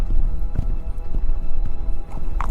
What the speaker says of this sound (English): he spurred his horse onwards towards the monastery